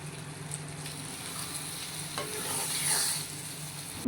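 Egg tomato curry with curry leaves being stirred in a pan, a steady soft sizzle of frying with faint scraping of the spoon, continuous and close, no talk.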